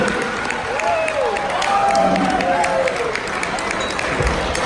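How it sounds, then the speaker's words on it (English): A wedding reception crowd claps and cheers for the two best men, Chris and Matt, a steady, fairly loud roar of applause running throughout, mixed with raised voices and whoops. "one more huge round of applause for your best men, Chris and Matt Mildy"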